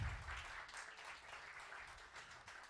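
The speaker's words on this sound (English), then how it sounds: "Give another hand clap." A church congregation gives a hand clap, a steady wash of many hands applauding at low volume across the room, with no voices over it.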